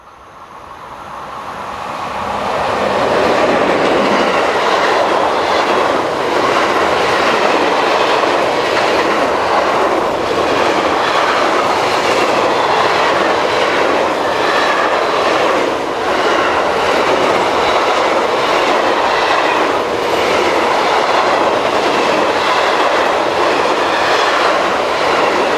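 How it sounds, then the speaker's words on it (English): Locomotive number 2014 hauling a container train eastbound from Zeebrugge to Antwerpen, swelling in over a few seconds into a loud, steady rumble with rhythmic wheel clatter and rail noise. "Heading eastbound for Antwerpen is number 2014 with container train number 43565, the 1222 departure from Zeebrugge to Antwerpen."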